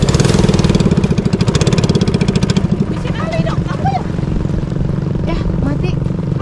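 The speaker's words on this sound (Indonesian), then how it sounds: "Mesinnya tiba-tiba mati kayak gini." A boat's motor on a lake runs loudly with a steady pulsing chug for about three seconds, then cuts out as it stalls, leaving quieter background noise with people talking.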